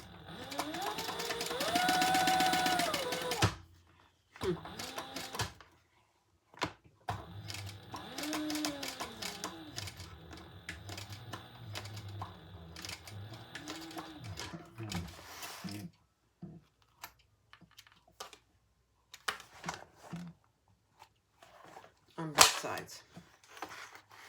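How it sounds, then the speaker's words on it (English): A sewing machine stitching the lining piece of a crossbody bag, close up, in short uneven bursts of rapid mechanical stitching separated by pauses, clicks and handling noises. "we're only gonna stitch the lining piece"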